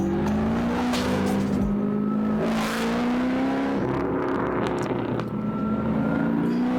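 Supercharged 725-horsepower custom American muscle car engine running loud and steady, a sustained rumbling drone with a rising rev toward the middle, continuous throughout.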